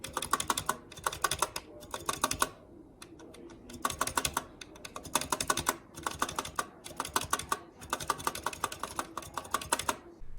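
Close, crisp typing on a Redragon K582 mechanical keyboard whose stabilizers are band-aided but not yet lubed: fast bursts of clacky keystrokes separated by short pauses, with no voices.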